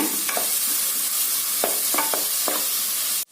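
Onions sauté in hot oil with a steady sizzle, while a spoon stirs and scrapes the pan in several short strokes; no voices, ending abruptly.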